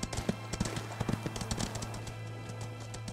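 Hooves from a horse in the video game Ostwind patter in quick, irregular taps, closer and denser at first then lighter, over a steady electronic hum.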